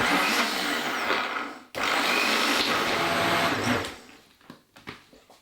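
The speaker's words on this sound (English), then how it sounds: "We'll give it another blend" A blender whirs loudly through chicken liver pâté in two close bursts, a brief pause between them, then the motor cuts out and a few light clicks and knocks follow.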